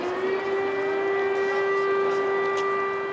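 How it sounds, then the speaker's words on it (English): An air raid siren holds a loud, sustained wailing tone throughout, steady and unbroken, with no voices. "The air raid sirens are irregular now."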